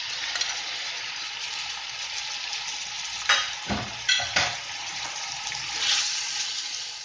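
Chicken pieces sizzle loudly and steadily in a pan with garlic ginger paste for chicken fried rice, with a few utensil scrapes and clinks as it is stirred.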